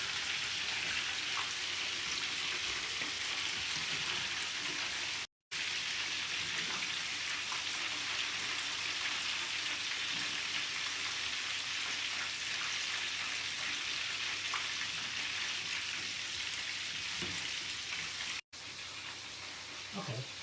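Beef meatballs frying in a pan give a steady, dense sizzle that runs unbroken and fairly close, with two brief dropouts partway through and no talk over it.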